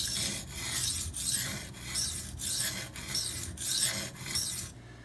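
A Maxamet steel knife blade draws across Venev diamond sharpening stones in steady repeated strokes, a close gritty rasp pulsing about seven times with brief pauses between passes.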